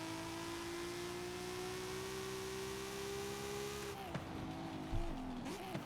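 A race car lapping a circuit in the Forza Horizon 5 video game, with a steady rising engine drone that holds for several seconds and then breaks into shifting, wavering revs near the end, alone without talk.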